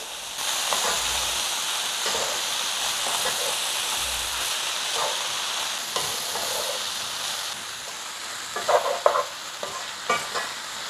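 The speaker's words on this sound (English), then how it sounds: "Allow the vegetables to cook for 6 minutes, mixing every 2 minutes interval" Sliced peppers and carrots frying for chicken spring rolls, a steady hissing sizzle with repeated spoon scrapes and clatters as the vegetables are stirred, busier toward the end.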